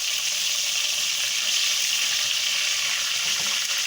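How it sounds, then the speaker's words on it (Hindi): Ginger garlic paste frying in a pan over medium flame gives a loud, steady hiss and crackle that holds unbroken for a few seconds, close and alone. "तो थोड़ी देर हमें क्या करना है, फ्राई करना है।"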